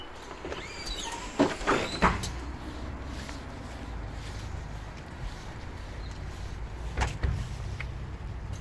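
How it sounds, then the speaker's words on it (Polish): A city bus's second door opens very slowly, giving a drawn-out mechanical hiss and whir with a few louder clunks near the start and end, set against steady engine idle. "Tu widzimy drugie drzwi po prostu strasznie powoli się otwierają."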